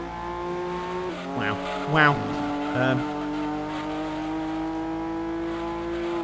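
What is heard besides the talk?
racing cars in video game Gran Turismo 2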